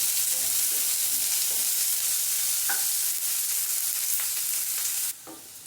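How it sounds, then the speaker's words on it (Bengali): Onions frying in hot oil while an aloo chop is made, giving a steady close sizzle with occasional stirring scrapes, then quieting near the end. "এবারে পেঁয়াজটা দিয়ে দেব। দিয়ে হালকা ভেজে নেব।"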